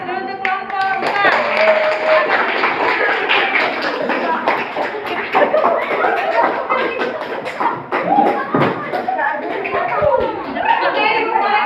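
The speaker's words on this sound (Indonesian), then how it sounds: "aplaus dulu untuk kelompok besar" A classroom audience applauds a group after its presentation, with a steady wash of clapping, scattered laughter and chatter around it, fairly loud and close.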